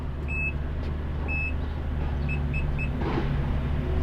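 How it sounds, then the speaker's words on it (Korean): Renault Samsung QM6 1.7 dCi power tailgate lowering with its warning alarm: a series of short, evenly spaced high beeps over a steady low hum, ending in a soft thud as the liftgate closes. "이런 알람과 함께 내려갑니다"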